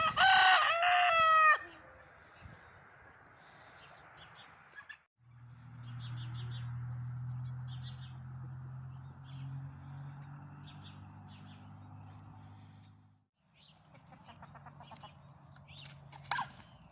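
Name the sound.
rooster and hens clucking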